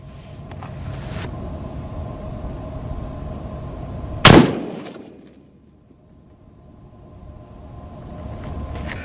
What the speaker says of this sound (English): we got the Ruger American Predator, chambered in .308, 140 grain full metal jacket